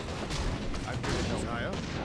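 Human mortar teams firing in Warcraft 3 during a campaign battle, with dull booms and blasts blurring into constant combat noise, under faint voices.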